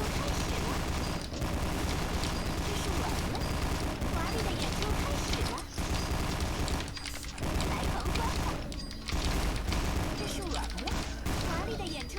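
Pistol gunfire in the Guns Girl Z stage, with rapid repeated shots and mechanical clatter running nearly continuously over dense game music and effects, with a few short gaps.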